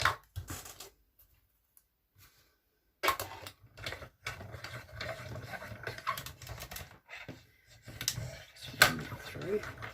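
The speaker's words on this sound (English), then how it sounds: "I'll just bring that in here and just die cut that one" A die cutting machine cuts paper stamens from basic white cardstock, giving bursts of close mechanical clicks and rattles with a quiet gap early on.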